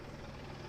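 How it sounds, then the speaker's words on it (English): Police helicopter overhead during a chase, a constant low rotor drone filling the brief moment without a break. "All right, so that's the helicopter up there."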